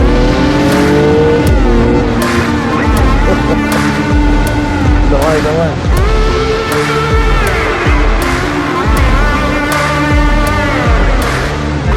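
A BMW 2 Series accelerates hard alongside another car, engines revving loudly and continuously with rising and falling tones and sharp gear-change breaks, close and dominant throughout.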